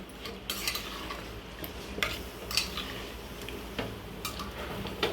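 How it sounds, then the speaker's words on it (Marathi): Mutton being stirred in a pot, with repeated scraping and clinking of a utensil against metal in a steady uneven rhythm, close and moderately quiet with no talking. "आणि मटण एकदा एक जीव करून घ्यायचं आहे परत"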